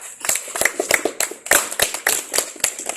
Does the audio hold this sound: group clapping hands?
yes